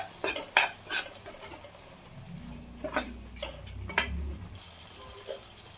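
Chili, coriander and garam masala powders being mixed for a dhaba-style paneer matar masala, heard as an irregular series of close, sharp clinks and scrapes with no talking.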